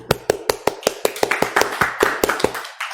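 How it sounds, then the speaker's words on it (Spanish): Hands clap close into a microphone in a quick, steady run of about fifteen sharp, loud claps over three seconds, with no one talking. "como somos muy poquitos voy a aplaudir al micrófono"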